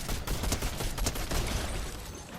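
Rapid bursts of gunfire crackle through a round of the video game Fortnite, close and loud, with dense overlapping shots and no pause for the whole short stretch.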